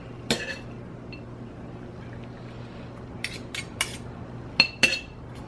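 Utensils clink against a bowl as chopped salad is served, a few short sharp taps and scrapes spaced out over near silence, close and fairly light.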